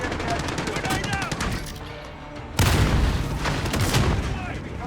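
A grenade blows up during an online Modern Warfare match, a sudden loud blast that cuts in midway and sets off a long rumbling roar. Rapid gunfire comes before it, and faint voices can be heard around it.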